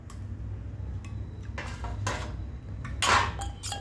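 Spoon mixing a spoonful of yeast and a spoonful of milk in a bowl, a few close scraping clinks and taps against the bowl, the sharpest one near the end, over a quiet room.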